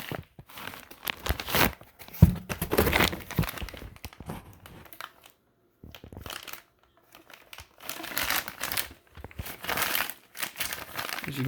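Cardboard wrapping around a GPI stage 3 LS1 camshaft crinkles and tears as it is handled, in irregular bursts of close crumpling separated by short quiet gaps.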